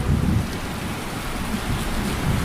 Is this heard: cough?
no